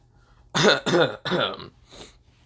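Three harsh coughs in quick succession, loud and close, followed by a softer throat-clearing rasp.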